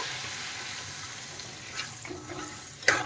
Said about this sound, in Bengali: তো এখন জল দিয়ে দেব।